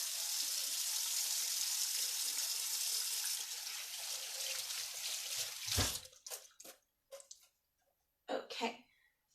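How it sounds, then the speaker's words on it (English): Water runs steadily from a kitchen tap while meat is washed off hands, then shuts off after several seconds, followed by a few scattered drips, clatters and a throat clear. "Wash some meat off my hands."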